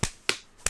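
One faint, short clap in a quiet room, followed by two more equally brief, weak hand claps spaced apart with silence between them.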